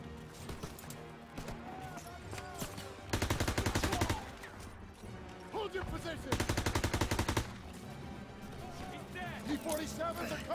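Gunfire in the Call of Duty WWII video game: two long, loud bursts of rapid automatic shots crackle through a busy battle soundscape, with soldiers' voices shouting in between.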